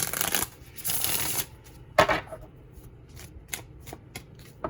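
Cards being shuffled in a few quick riffling bursts, followed by scattered soft card taps and snaps, close and clear.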